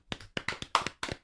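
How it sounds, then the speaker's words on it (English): Hands clap in a short burst of about five sharp claps, close and fairly loud in a podcast studio, with no talking over them. "Clap it up."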